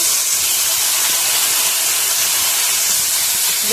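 Water poured into chilli powder and turmeric masala in a hot pan for a fish curry throws up a loud, steady, close hiss of steam and sizzle that never lets up.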